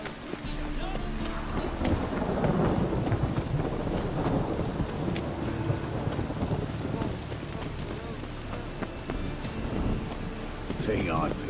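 Rain falls and thunder rumbles in The Witcher 3: Wild Hunt, a steady wet hiss with low rolling booms, joined by horse hooves clip-clopping and voices talking over it.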